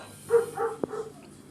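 A small dog gives a few short barks and a faint whimper at close range, with a sharper yip near the end, in what sounds like a pet shop setting.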